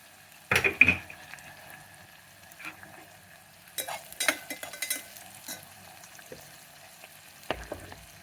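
Onions for kichdi fry quietly in a pan with a soft, faint sizzle, broken by a few clattering stirs and scrapes of a spoon against the pan.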